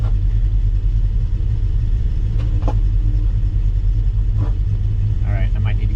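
Starter of a 1949 Studebaker Champion, a 6-volt unit run on 12 volts, grinds the engine over continuously in a loud low rumble with a few clicks and a brief voice near the end.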